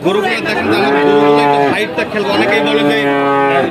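Heifers at a cattle sale bellow in repeated long, loud moos, one after another with brief pauses, while people talk in the background.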